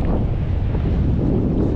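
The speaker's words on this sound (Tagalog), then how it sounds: "So mahangin, sobrang hangin ngayon dito." Strong wind buffets the microphone, a loud, continuous low roar and rumble with no voices.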